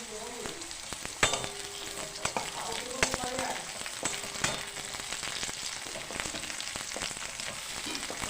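A spice and curd mix with ginger paste fries in hot oil, a steady close sizzle broken by sharp ticks and clinks of stirring against the pan, with no voices.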